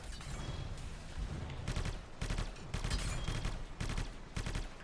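Rapid bursts of weapon gunfire in the Anthem video game, dense repeated volleys with short pauses, loud and continuous in the foreground with no talking.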